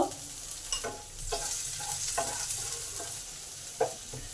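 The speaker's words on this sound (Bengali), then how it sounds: "একটু নুন দিলাম, পেঁয়াজটা তাড়াতাড়ি যাতে ভাজা হয় সেই জন্য।" Finely chopped onion with a little salt fries in a pan with a steady hiss, broken by several distinct scraping stir strokes close by; no one speaks.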